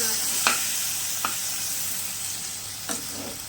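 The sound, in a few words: stirring ghugni as it fries in a pan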